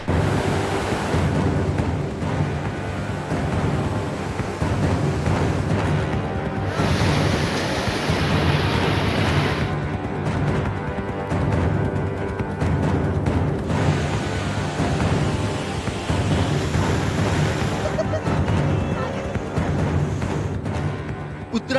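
Floodwater rushing through a town after torrential monsoon rain in Uttarakhand, overflowing rivers and drains surging past houses in a loud, unbroken roar with wind buffeting the microphone, under a voice narrating throughout.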